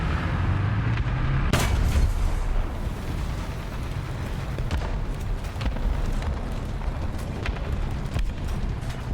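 A tank cannon fires in the War Thunder video game during a Swedish 6.7 lineup battle, one sharp loud boom near the start followed by rumbling battle noise and scattered distant impacts.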